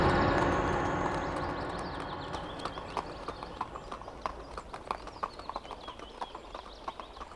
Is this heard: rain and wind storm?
no